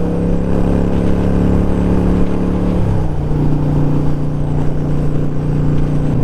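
A Harley-Davidson Sportster motorcycle hums steadily while riding, a continuous close engine drone with strong low harmonics that dips in pitch about halfway through, as if shifting gears, then settles again.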